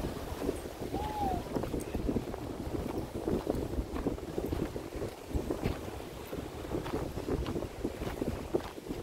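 Sea wind blows across a bay at a park in San Mateo, Northern California, buffeting the microphone in a constant gusty rumble, with faint voices in the background.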